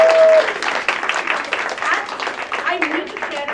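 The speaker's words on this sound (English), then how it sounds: "Big round of applause." Audience applause at an improv comedy show, a dense steady patter of clapping from a room of people, with voices and cheering mixed in throughout.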